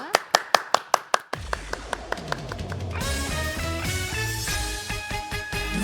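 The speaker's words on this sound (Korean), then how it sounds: "아쉽지만 박수로. 보내드리겠습니다." A studio audience on a live Korean morning TV show claps in a quick burst of about eight sharp, evenly spaced claps, then music swells in and continues over the rest.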